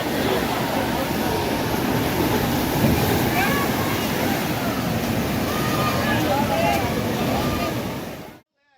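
A flooded river roars with massive force, a continuous loud rushing wash like ocean surf that holds steady for several seconds before cutting off abruptly.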